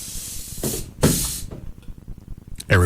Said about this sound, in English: You guys may want to spray.